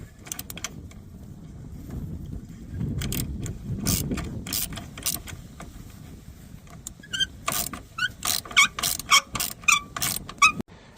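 A ratchet tightens the battery holder on a Nissan Rogue: rapid metallic clicking strokes come in bursts, sparse at first and then a steady run of close, crisp ratcheting near the end.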